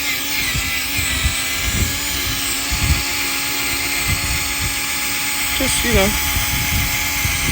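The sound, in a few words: cordless drill running during headlight restoration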